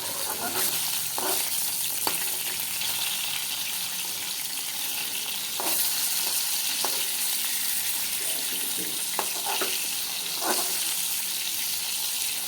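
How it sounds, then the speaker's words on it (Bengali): Fish frying in oil after being turned to the other side, a constant close sizzle with a few sharp utensil taps and scrapes scattered through, no talk. "এক সাইড ভাজা হয়ে গিয়েছে, অপর সাইডটাও ভেজে নিচ্ছি।"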